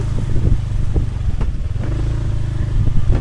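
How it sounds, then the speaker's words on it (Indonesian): An automatic scooter motorcycle is ridden along a rough rural track, its engine a close, steady low drone with rattling clatter and bumps over the uneven ground. "Kita naik motor matic."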